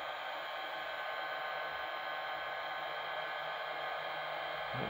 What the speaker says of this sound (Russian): Вот сейчас фен начинает работать на продув.